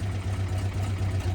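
A big-block six-pack race car engine runs steadily nearby, a low, even rumble with a slight pulsing lope across the short stretch.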